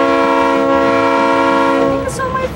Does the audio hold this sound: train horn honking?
yes